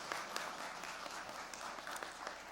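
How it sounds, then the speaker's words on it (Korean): Church congregation at a Sunday worship service applauding to thank volunteers who served in the dining hall, a short burst of quiet, scattered hand clapping heard from a distance in a reverberant room. "우리 다 같이 박수로 격려하시고"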